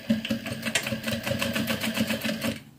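A sewing machine stitches binding along a shirt sleeve, running close by with a rapid, even chatter of needle strokes for nearly three seconds before stopping, and no talking.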